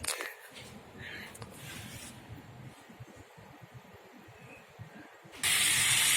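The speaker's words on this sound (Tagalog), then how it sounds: "Ayan guys, sinisa natin sa ating mga ingredients na" Shrimp-in-coconut-milk ingredients hit a hot pan and sauté with a steady hiss, and a loud burst of sizzling swells near the end. A voice talks quietly underneath.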